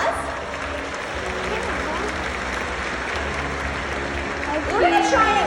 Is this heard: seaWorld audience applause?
yes